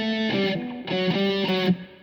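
A distorted electric guitar plays two short bars with sliding notes, sustained chords gliding between pitches in two loud phrases separated by a brief gap, with no one speaking.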